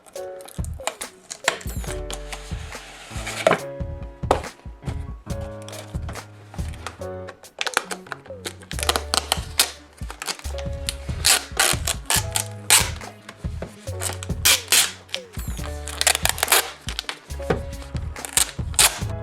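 Packaging for a GoPro Hero 2 camera being unwrapped and handled at close range: a steady run of crinkling, tearing and clicking plastic and cardboard sounds in irregular bursts, with no voices.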